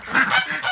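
Several geese honking in a noisy, overlapping flock from a farmyard pen on a rainy day, loud and continuous with ducks and chickens kept nearby.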